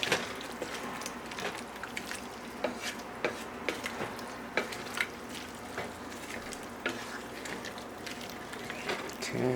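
Vietnamese curry stirred in a pan, a run of irregular utensil knocks and scrapes against the pan over a low sizzle, close by, with talking in places.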